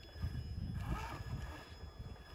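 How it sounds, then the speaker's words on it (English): Low, rumbling wind buffeting the microphone in uneven gusts, swelling near the middle and easing off, with no talking. "the wind is just gusting"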